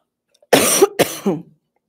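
A single person coughs two or three times in a quick close-up burst, then silence.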